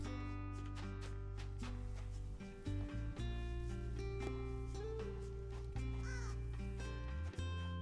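Crow cawing in the fantasy merchant game Roads & Riches, repeated caws over steady background game music.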